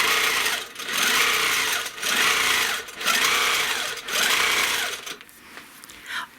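A sewing machine quilting layered stitches along a quilt border, following a stencil design, runs in four steady rhythmic bursts separated by short pauses, then slows and stops; no voices.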